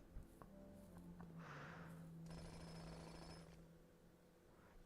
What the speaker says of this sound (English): That jackhammer sound reminds me of Digimon.